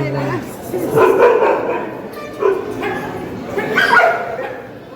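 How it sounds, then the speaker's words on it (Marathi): Dogs bark and yip in several short bursts nearby, some sounding whiny. "कुत्रे भुकायला लागले."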